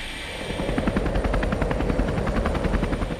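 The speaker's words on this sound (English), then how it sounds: "helicopters are used to transfer personnel and cargo to the concerned substation" A helicopter used to ferry crews and cargo to an offshore substation flies close and loud, its rotor beating a fast, steady chop throughout.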